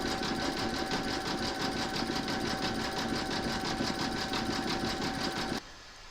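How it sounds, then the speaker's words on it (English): An embroidery machine sews decorative satin stitching around large appliqué letters, a steady, loud, fast mechanical whirring with a rhythmic needle chatter that runs continuously and then drops away near the end. "I'm now going to stitch round number 7, and that's going to do the decorative satin stitching"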